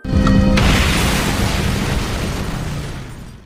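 A large explosion in an action film erupts in one sudden heavy boom, then rumbles and crackles for several seconds as it slowly fades; the blast cuts off a short tonal sound at the start.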